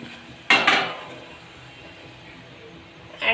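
A steel plate set down on top of another plate during quick mehndi paste preparation from sugar and wheat dough, giving one sharp close clatter with a short ringing tail, then a quiet room and a faint second knock at the end.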